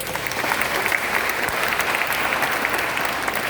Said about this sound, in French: Encore, applaudissez-les,